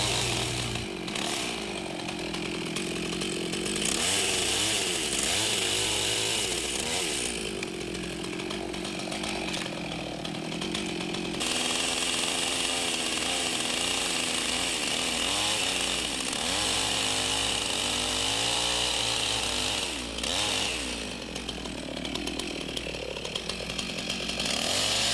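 A chainsaw cuts into a log while a window opening is made in a log cabin wall, the engine roaring loud and close, dipping briefly between cuts before biting back in.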